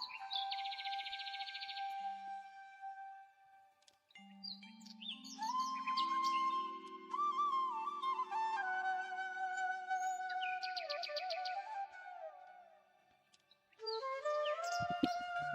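Peacocks in a safari park enclosure in Cox's Bazar give repeated calls, some drawn-out and wavering, others in short bursts, fairly close and clear against quiet surroundings.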